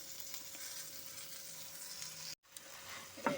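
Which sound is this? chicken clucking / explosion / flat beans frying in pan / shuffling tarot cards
flat beans frying in pan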